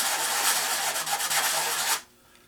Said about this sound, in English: you might want to sand that with 320